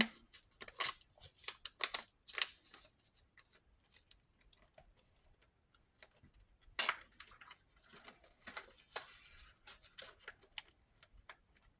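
Sheets of paper are folded by hand to fit smaller envelopes, producing sharp creasing, crinkling and rustling in irregular bursts, close and fairly quiet, with no speech.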